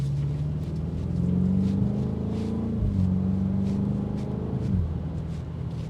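A BMW X5 M Competition SUV engine and exhaust while driving, a steady loud low drone that rises and swells with throttle, briefly dips around a gear change, then pulls again, with no talking.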